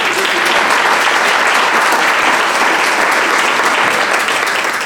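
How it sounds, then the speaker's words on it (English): A crowd at the ceremony of the 2017 Boca Grande Kids Classic tarpon fishing tournament applauds itself, a loud, dense and sustained roar of clapping that holds steady for five seconds before cutting off. "I want to just have everybody applaud yourselves."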